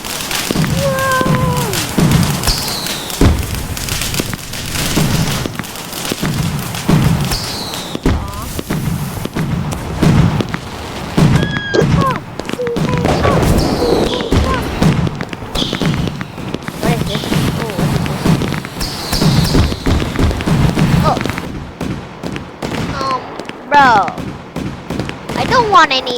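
Video game fireworks crackle and thump in a rapid, irregular string of bangs and pops, some with whistling rises, mixed with ongoing talk throughout.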